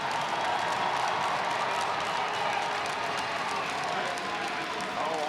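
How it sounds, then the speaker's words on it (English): A crowd at an RIT college hockey game gives a sustained round of applause and cheering for the seniors, a dense, even wash of clapping filling the arena without pause. "let's have one more round of applause for our 7 seniors"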